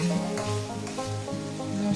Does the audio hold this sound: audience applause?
no